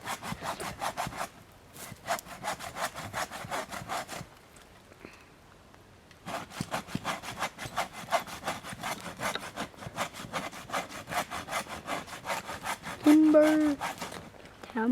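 A hand saw rasps through a tree trunk in the woods in steady back-and-forth strokes, close and fairly loud, with a short pause before the sawing resumes and continues to the end.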